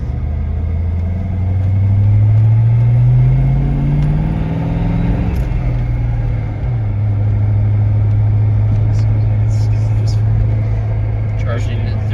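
A Ford Mustang engine idles with a steady low rumble, and its pitch rises and falls once as the revs climb briefly before settling back to a smooth idle, while a person talks.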